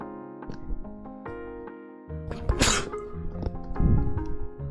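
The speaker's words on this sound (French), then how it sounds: "j'ai pas trouvé de moyen pour cacher mes éternuements" A sharp, close sneeze bursts out over a quiet melodic game soundtrack with sustained tones, followed by a smaller sniff or second burst a moment later.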